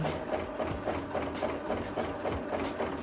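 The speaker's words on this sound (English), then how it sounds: "we just sew up until that point" A sewing machine running steadily through free motion quilting, its rapid needle chatter pulsing in a regular rhythm, close and moderately loud with no voices.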